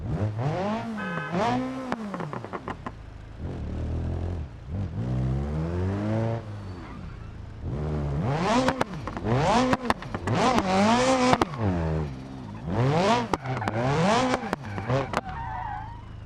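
Car drifting through a drift event in the driving game BeamNG, engine revving up and down in repeated sweeping pitch climbs with tire squeal between, loud and close with no talk.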